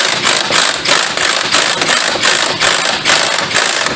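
An impact wrench tightens a lock nut on a rear strut of a 1998-2003 Chevrolet Malibu, hammering loudly and close in a steady run of repeated rattling bursts, with no talking.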